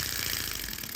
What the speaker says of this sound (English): You can clearly hear one cylinder misfiring.